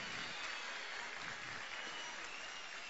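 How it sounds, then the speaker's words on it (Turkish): Steady, dense applause from a large crowd at an outdoor political rally in Manisa, sustained evenly throughout without a break. "Bütün annelere bir alkış gönderelim."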